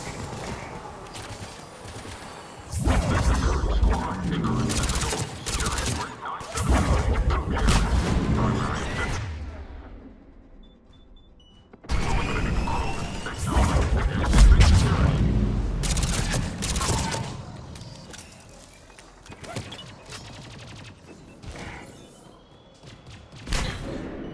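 Enemy gunfire and explosions in the sci-fi shooter Mass Effect 3 during a krogan airdrop battle on Sur'Kesh, heavy bursts of booms and fire in two loud spells separated by a brief lull, with radio-style voices talking over the combat.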